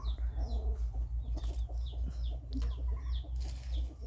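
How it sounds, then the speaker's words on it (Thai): Domestic chickens on a small Thai farm cluck and call repeatedly in short bursts over a steady low background hum, fairly close and continuous with no talking. "มีทั้งไก่บ้านไก่งวงนะคะ ไก่บ้านราคาดีมาก เราเพาะพันธุ์เอง เลี้ยงเองนะคะ"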